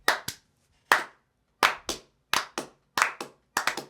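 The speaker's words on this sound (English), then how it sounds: "Everybody, I want to slow clap real quick." Hands clap in a slow group clap, several people together with sharp, close, slightly uneven pairs of claps spaced about every second or so, with silence between them.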